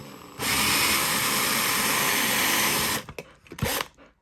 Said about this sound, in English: You don't want to drill too far, because obviously you could just then drill through the whole thing.